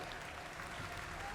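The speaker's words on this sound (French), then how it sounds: "applaudissez-le." A live audience at a Japan Expo 2016 comedy show claps together in a dense, steady burst of applause heard at a distance, brief and uniform, with no one speaking.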